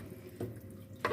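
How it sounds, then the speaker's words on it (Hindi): Boiled white chickpea water poured over chicken in a pot, a brief soft splashing pour with a louder splash at the end, close and quiet, no talk. "अभी हम बॉयल किया हुआ सफ़ेद चनों का पानी ऐड कर देते हैं चिकन में।"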